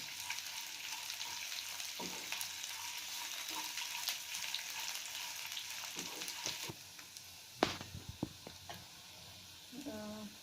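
Onions frying in a pan for tempering curd rice give a steady broadband sizzle throughout, with a few clinks and stirring clatters near the end.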